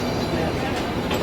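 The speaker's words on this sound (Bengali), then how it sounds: "ট্রেন আসছে," A small narrow-gauge mountain train arrives in Shimla, giving a steady, loud rail rumble with a dense rattling roar throughout, and a voice speaks over it.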